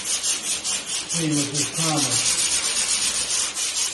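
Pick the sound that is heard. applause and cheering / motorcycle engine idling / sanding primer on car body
sanding primer on car body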